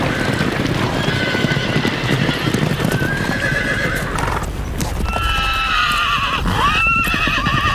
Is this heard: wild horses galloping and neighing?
yes